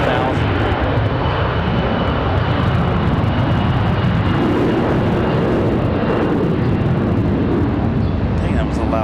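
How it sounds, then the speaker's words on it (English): An American Airlines A321 roars off on departure from Charlotte Douglas airport, a loud, sustained jet rumble filling the whole stretch while a voice talks over it. "Dang, that was a loud departure."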